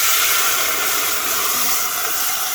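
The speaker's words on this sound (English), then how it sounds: "Yeah, that sizzle." Rasam tempering sizzles hard in a pot on the stove, a loud, steady, close hiss of hot oil that runs unbroken throughout.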